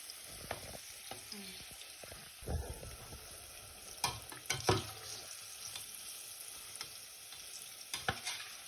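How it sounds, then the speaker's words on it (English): Halloumi deep fries in oil on low heat, crackling and sizzling steadily at low volume, with occasional clinks and stirring knocks from utensils. "So now we're deep frying our halloumi until it turns golden brown"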